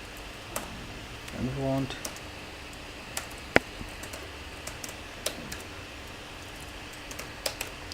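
Sparse, crisp clicks of computer keyboard keys while code is typed for an HTML and CSS login template, a short flurry near the start and isolated taps later, with brief speech in the background.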